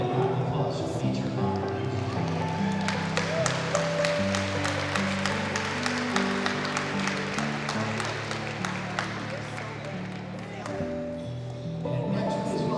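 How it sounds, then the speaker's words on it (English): Applause from guests at a wedding reception during the speeches, sustained clapping that fills the room over steady background music, with voices mixed in. "let's follow up with a big round of applause for Matron"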